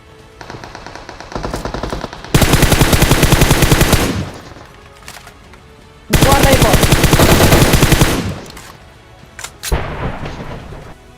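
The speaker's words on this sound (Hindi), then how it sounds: "आगे गोलियों की आवाज आने लगती है" Gunfire in the PUBG Mobile battle game comes in two long, loud bursts of rapid automatic fire with scattered single shots and softer fire before and after, with no talking.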